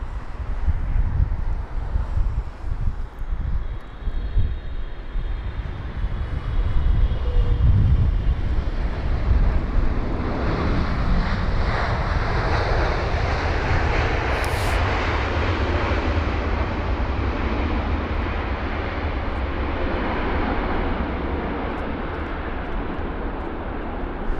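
A Boeing 777 arrives at London Heathrow in windy weather. Its engines make a broad, rising roar that swells and then holds as the jet passes, mixed with gusting wind buffeting the microphone outdoors. No one speaks.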